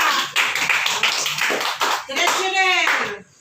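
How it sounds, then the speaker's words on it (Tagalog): A small group of people clapping at a family gathering, with uneven hand claps running through the moment, voices mixed in, and a voice rising clearly near the end before it cuts off. "Palakpak."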